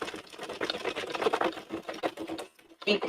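A knitting machine runs with yarn, giving a steady, busy mechanical clatter of rapid rhythmic clicks that continues for several seconds, then stops briefly before starting again.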